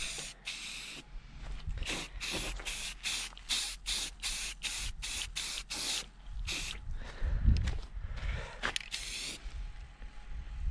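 Repeated short bursts of spray finish from a spray can or gun laying a light coat on a post and beam barn build, each hiss separated by brief pauses, fairly close, with no talking.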